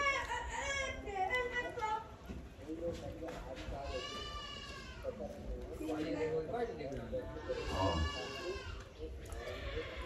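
A goat bleats several times in long, wavering cries, with people talking nearby underneath.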